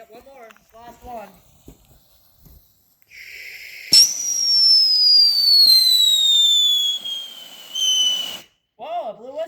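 A Piccolo Pete whistling firework shrieks for about four seconds during a Fourth of July backyard display, a loud, piercing whistle that slides slowly downward before cutting off, with people talking briefly before and after it.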